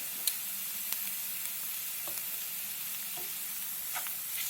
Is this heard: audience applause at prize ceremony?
no